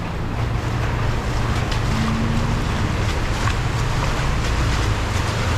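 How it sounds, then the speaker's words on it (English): Rain on a street in Pattaya, Thailand, heard as a dense, steady broadband wash with a low rumble beneath, continuous and fairly loud. "this is what happens when it rains"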